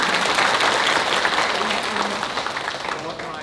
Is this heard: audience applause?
yes